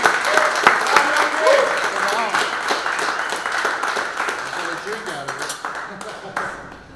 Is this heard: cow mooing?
no